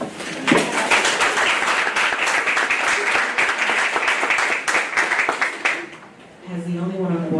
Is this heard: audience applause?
yes